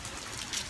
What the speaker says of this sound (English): it's raining a little bit harder here